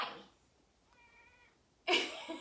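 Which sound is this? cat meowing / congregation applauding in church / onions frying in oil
cat meowing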